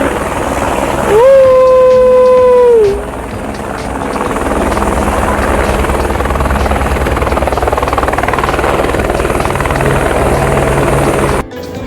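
A helicopter at Kedarnath starts up with a loud rising whine, then settles into a steady, heavy rotor drone and engine roar for several seconds as it readies to lift off nearby.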